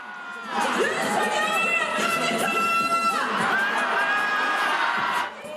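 Crowd at a street rally outside the National Assembly in Seoul cheers and chants along to a K-pop song, loud massed voices and whoops over the music, cutting off near the end.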